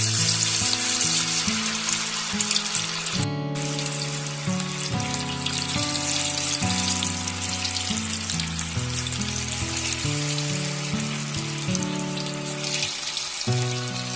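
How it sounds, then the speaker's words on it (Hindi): Egg 65 pieces frying in hot oil over a medium flame, a continuous bright sizzle and crackle running throughout under prominent background music. "अब हम इसे फ्राई कर लेते हैं।"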